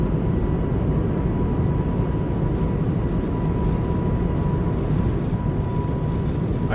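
Airbus A220 airliner engines roar during the takeoff roll, a loud, steady broadband rumble that holds evenly throughout with no voices over it.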